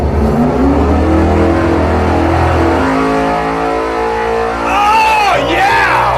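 Ford Cleveland V8 engine making 658 horsepower, roaring and revving on its first start-up, a loud continuous rumble with climbing pitch, while excited voices shout over it near the end.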